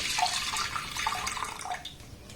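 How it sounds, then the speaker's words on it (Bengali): Thickened milk pours into a hot wok, a close, continuous liquid splashing and gurgling that tapers off toward the end. "কড়াটাকে গরম করে নিয়ে এর মধ্যে দিয়ে দেবো ঘন করে জাল দিয়ে না দুধ"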